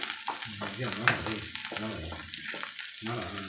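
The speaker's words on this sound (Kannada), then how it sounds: "ಬೆಂಡೆಕಾಯಿ ಬೇಗ ಫ್ರೈ ಫ್ರೈ ಆಗಬೇಕು" Okra frying in a pan with turmeric, a hissing sizzle under repeated rhythmic stirring scrapes, close up, with a faint voice in the background.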